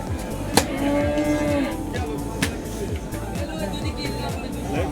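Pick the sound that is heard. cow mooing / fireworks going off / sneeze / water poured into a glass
cow mooing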